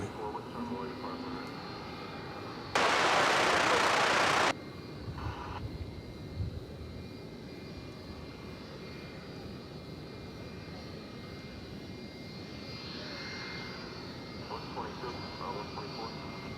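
A Boeing 757 jet airliner rumbles steadily in the distance behind the scene at DFW Airport at night, with a brief loud burst of broadband noise near the start.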